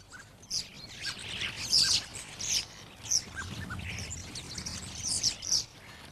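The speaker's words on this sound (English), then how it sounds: "the usual gang of noisy starlings" Lively chirps and whistled calls from several birds, including noisy starlings, overlap in bursts, fairly close, with a low rumble of background noise beneath.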